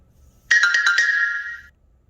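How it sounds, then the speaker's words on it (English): A phone notification alert chimes close and clear: a quick run of five bright stuttered tones that merges into a ringing tail and fades out within about a second, in an otherwise quiet room. "Yay for notifications."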